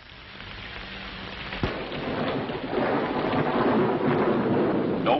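A thunderstorm sound effect for a 1952 radio crime drama: steady heavy rain with a sharp thunder crack early on, then a swelling rumble as the downpour grows louder.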